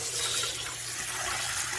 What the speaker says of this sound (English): And I fill the pot